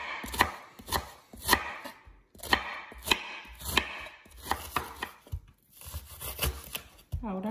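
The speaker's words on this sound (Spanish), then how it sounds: "Aquí ya estamos picando nuestro repollo para ponerlo con la cebolla" A knife chops cabbage on a board in quick bursts of crisp, crunchy cuts separated by short pauses, close by, with someone speaking Spanish softly at times.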